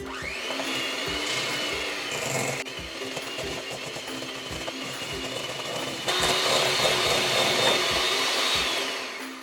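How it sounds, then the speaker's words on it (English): A hand mixer beats butter and sugar for shortbread, a steady electric whir with a rattling buzz that holds throughout and grows slightly louder and brighter partway through, close and continuous without talk. "you beat it until it's white and fluffy using this hand mixer"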